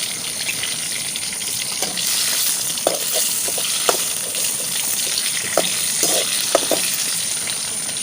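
Cumin seeds, curry leaves and crushed garlic fry in hot oil for tomato saaru, giving a continuous close crackling sizzle broken by several light clinks of a stirring spoon, with no talking.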